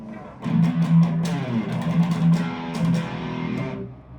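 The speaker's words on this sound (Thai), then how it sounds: "เดี๋ยวลองเป็นเสียงแตกดิทอชั่นกันเลยนะครับ" A heavily distorted electric guitar, a Korean-made PRS-style Future with coil splitting, plays a short riff of chugging low notes and rhythmic strums, ringing out and fading at the end.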